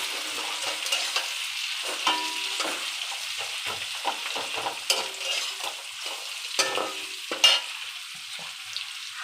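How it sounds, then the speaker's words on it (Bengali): Capsicum stir-fried in a pan, a constant close sizzle broken by scraping and clinking as the spatula works, with no voices. "ক্যাপসিকামগুলো দিয়ে দিলাম, সব একসাথে ভাজা করব"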